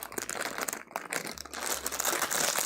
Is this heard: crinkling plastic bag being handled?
yes